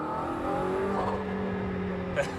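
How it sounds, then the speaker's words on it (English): A McLaren 750S engine in sport mode hums steadily and fairly loudly for a couple of seconds, with a brief flutter-like burst near the end and talk layered over it. "So the sounds of this car really start to come alive more in sport mode."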